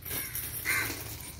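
A crow gives a single cawing call midway through, fairly faint against quiet outdoor background noise.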